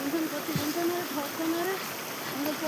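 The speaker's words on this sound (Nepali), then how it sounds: "यति राम्रो खोला त यस्तो राम्रो चल्छ" A village river stream flows with a soft, continuous rushing hiss, heard faintly under a voice.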